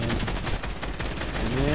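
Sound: gunfire from a video game (Fortnite)

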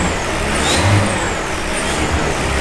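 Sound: BMW engine revving with new exhaust

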